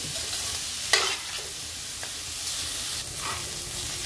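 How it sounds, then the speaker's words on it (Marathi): Onions sautéing in a pan for a spicy Maharashtrian onion chutney, a soft continuous sizzle broken by a few sharp spatula scrapes and clicks as they are stirred, no one speaking. "कांदा आपला चांगला परतलाय"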